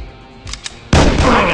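Street Boss: Shootout mobile game gunfire: a couple of faint clicks, then a loud sustained blast of shooting that fills the rest of the brief moment.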